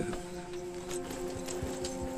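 Horse hooves clip-clopping in a video game, a quick irregular run of soft thuds over a steady ambient hum, moderately quiet and close.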